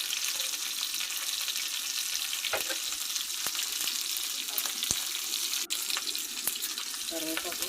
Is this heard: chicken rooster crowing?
no